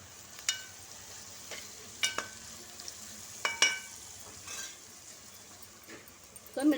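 Food for street-style veg noodles is stirred and roasted in a thick-bottomed pan, with soft sizzling underneath and intermittent scrapes and clinks of a spatula against the pan, close by.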